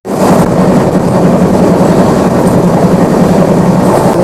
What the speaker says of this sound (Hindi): और ये गाड़ी जो है निकल चुकी है मलकापुर रेलवे स्टेशन से,